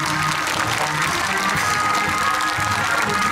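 A crowd claps warmly at a Buddhist ceremony for military chaplains marking the chaplaincy's 50th anniversary, a loud, sustained wash of hands with faint murmuring and low background tones beneath.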